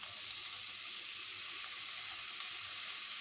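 Onion frying in oil in a pan: a soft, steady sizzling hiss holding evenly for a few seconds, with no voices.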